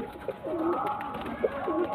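A pigeon held for sale coos several times, close and moderately loud, soft rolling calls repeating over a faint background hum, with no talk.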